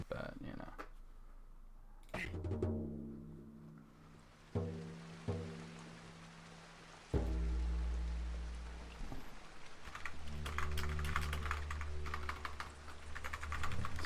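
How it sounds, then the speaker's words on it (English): Keys clatter on a computer keyboard while someone types a Discord message during a play session of The Hobbit, the soft clicking running through a bed of game music and sound effects, with a person talking over it. "So I'm just typing on Discord."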